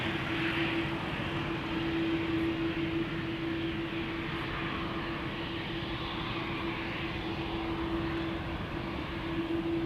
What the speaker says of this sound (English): This is KLM flight 743, flown by the PHBVA Orange Pride, going to Lima in Peru.